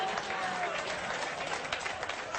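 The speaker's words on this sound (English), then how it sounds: "I didn't know that was going to get the crowd reaction again" A studio audience on a sports debate show reacts with applause and crowd noise, a steady wash of clapping and murmuring at moderate level, somewhat distant.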